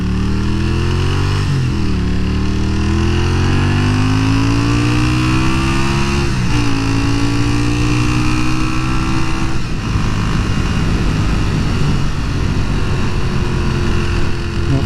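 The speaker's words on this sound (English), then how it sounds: "I'm also riding this bike around in a loop just in case I break down." A motorcycle engine drones loudly and continuously while the bike rides in a loop, its pitch climbing and falling through gear changes, with rougher wind and road noise toward the end.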